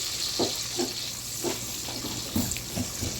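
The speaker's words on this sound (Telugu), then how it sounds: "వీటిని బాగా ఫ్రై చేసుకోవాలి." Green chillies fry in a pan with a steady, bright sizzle, punctuated by soft, regularly spaced stirring knocks and scrapes at close range, with no talking.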